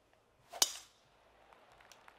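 A single sharp, bright crack of a golf club striking the ball in the video game PGA 2K23, played on a course, followed by quiet game ambience.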